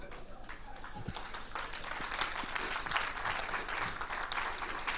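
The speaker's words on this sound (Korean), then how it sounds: "끝내라고 박수 치는 거죠" A church audience at a keynote lecture on Korean churches claps steadily throughout, a dense, even wash of applause that swells slightly midway and continues to the end.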